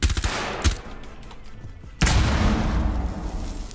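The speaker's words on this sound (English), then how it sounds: "I'm trying to shoot the trap that won't break." Gunfire in the Rainbow Six Siege video game: a burst of shots at the start, a lone shot a moment later, then a loud sustained stretch of rapid firing and impacts, with no talk.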